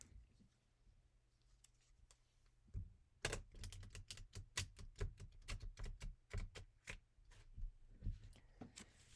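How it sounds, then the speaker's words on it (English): After a quiet start, a burst of rapid crisp clicks and flutters from cards being shuffled, close and fairly loud, continuing in uneven bursts. "And then I am going to cut the deck in the middle and give it one last good shuffle."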